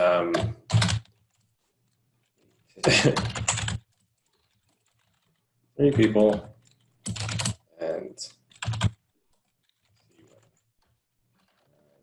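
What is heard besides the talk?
typing on a computer keyboard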